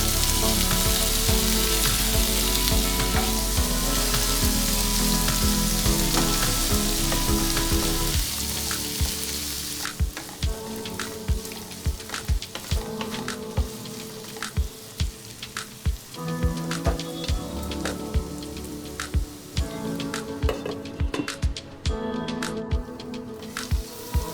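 Beans and potato pieces hit a pan of frying onions in a loud, dense sizzle that gradually subsides into crackling, punctuated by repeated close scraping and clacking strokes of a stirring spoon.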